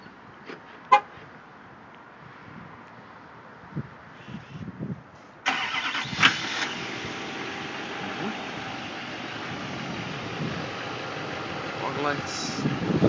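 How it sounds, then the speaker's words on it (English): A pickup truck in SLT trim starts by automatic remote start: a horn toot, then the engine catches and settles into a steady close idle that runs to the end. "This truck has an automatic start."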